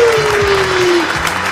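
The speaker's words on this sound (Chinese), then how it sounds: "让我们掌声鼓励你。" A short burst of steady, dense applause rewards someone for finishing a 24-meals-in-24-hours eating challenge, heard alone and at a fairly constant loudness.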